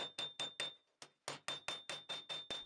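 A hammer strikes a hunting knife blade on an anvil while forging the tang, about a dozen sharp ringing blows in steady rhythm with one brief pause, each leaving a bright metallic ring, close and clear with no talk.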